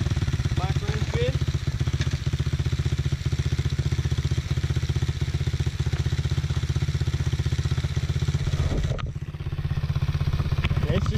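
A Tao Tao DB14 dirt bike engine idles steadily and close, a rapid, even low putter that holds for over ten seconds with a brief dip near the end, while someone talks over it.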